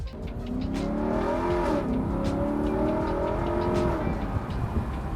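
A 2021 Lexus LC500 Convertible under way, its engine note loud and steady with a rising and falling pitch as it accelerates and shifts, close to the listener, with no talking.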